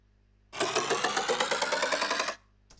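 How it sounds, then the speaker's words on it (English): Time-stretched wind-up sound effect, a single close ratcheting, engine-like whir with a steady pulsing rhythm lasting about two seconds, then stopping abruptly, followed by a faint tick. "Some time stretch winding up."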